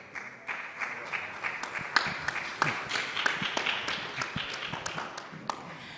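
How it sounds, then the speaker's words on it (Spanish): An audience at a rural innovation panel event claps for the moderator, a steady patter of many hands for several seconds with scattered louder claps, moderately close. "pido un aplauso para su moderadora, Laura Corchado"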